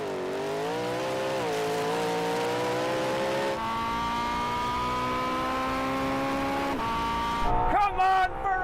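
Race cars, a Ferrari and a Porsche, accelerate hard in second gear, engines rising in pitch through sustained revving with gear shifts, then a burst of brief screeching tones near the end; loud and continuous.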